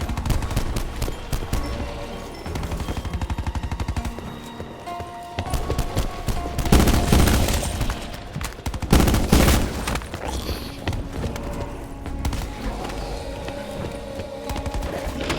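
Rifle gunfire in the Black Ops 4 Zombies video game, loud dense bursts of shots over game music and effects, with heavier volleys near the middle of the clip.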